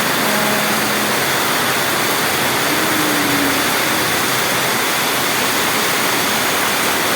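Heavy rain pours down in a loud, unbroken roar of close, dense hiss, with no voices over it.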